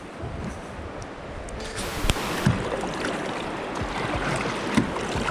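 Steady rush of river water flowing around a small boat moving upstream through shoals, a continuous broadband wash with occasional light knocks and splashes, close and fairly loud throughout.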